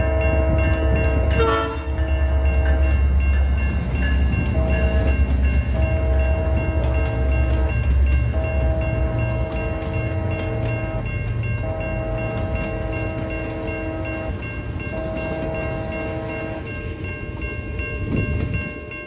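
An Alaska Railroad Glacier Discovery passenger train departs with loud, steady rumble and sustained horn-like tones, a sharp burst near the start, continuing throughout.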